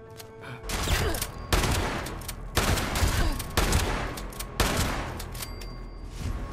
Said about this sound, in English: Maybe a shotgun isn't the best thing for this distance.